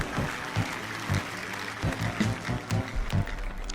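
A congregation at a Protestant church service claps together in a steady rhythm, with loud, evenly spaced hand claps about twice per second over a roomy background.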